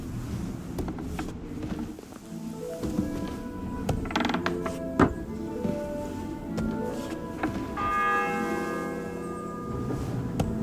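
A church bell tolls in the Kingdom Come Deliverance II video game, its sustained metallic ringing layered with clanking mechanical, gear-like sounds over about ten seconds, loud and continuous.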